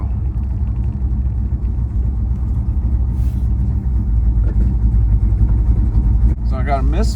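Engine of a 1970 Dodge Charger, left sitting for 20 years, running with a misfire: a close, uneven low rumble with lumpy pulses throughout, and a voice briefly heard near the end.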